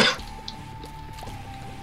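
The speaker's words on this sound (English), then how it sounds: "Trying to cough away from my microphone." A single short cough at the very start, close and fairly loud, followed by a quiet room with faint background hum and small clicks.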